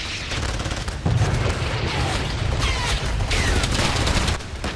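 Gunfire and booms from tanks and artillery during a British Army exercise in sub-zero Finland, heard as a dense, rumbling series of muffled shots and thumps at a distance, continuous over the stretch with sharper bursts near the middle.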